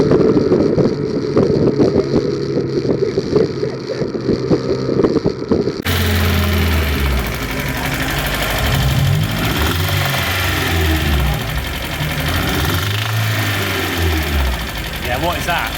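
Rebuilt race car engine revving and building speed as the car drifts down a driveway, the loud rising engine note dominating the second half, with talk over the earlier portion.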